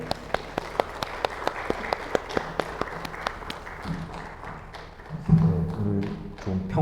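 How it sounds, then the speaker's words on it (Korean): Congregation applauding during a Sunday worship service in a church, a thin run of individual sharp claps at first that swells into louder, fuller clapping with a low organ or music tone underneath near the end. "오늘 좀 평소보다 박수 소리가 좀 적은 것 같아요."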